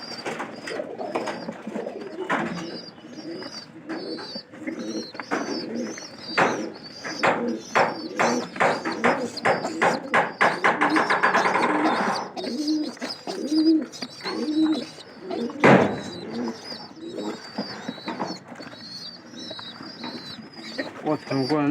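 Pigeons feeding their chicks coo repeatedly in soft, throaty bursts at close range, with fluttering, rapid squeaky begging calls and occasional wing flaps, while someone talks intermittently.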